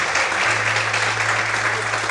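A church congregation claps continuously in a large room, dense steady applause with a low hum underneath, no individual voices standing out.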